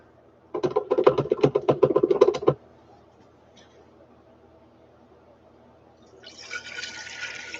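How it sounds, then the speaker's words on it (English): A drink poured into a glass makes a close, gurgling splash for about two seconds, then stops. A faint hiss follows near the end. "Let me pour you all a tall one."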